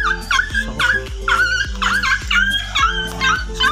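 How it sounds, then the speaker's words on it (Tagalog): A dog yips and whimpers repeatedly in quick, excited bursts, close by, with a steady rhythm of high-pitched cries. "Sumabit yung aking aso."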